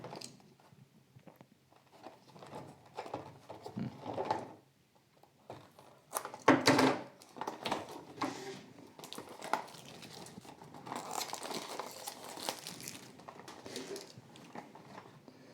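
Packaging of a Mini GT die-cast model car, a Liberty Walk BMW M4, being cut open: intermittent crinkling, snipping and rustling of plastic and cardboard, close and fairly quiet, with a louder burst midway.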